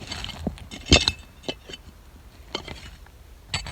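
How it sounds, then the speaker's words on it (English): Metal tool scraping lightly over a buried glass bottle at the bottom of a dig hole, giving several faint, sparse glassy clinks and scrapes with one sharper knock near the start. "I'm just working right down on the very bottom, just scraping real lightly,"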